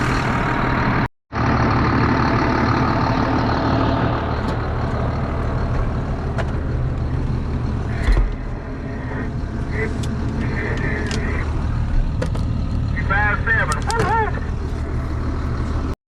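A farm truck's engine idles steadily beside a corn field, a continuous low rumble that runs throughout with occasional clunks and rustling on top.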